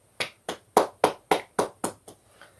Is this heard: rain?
no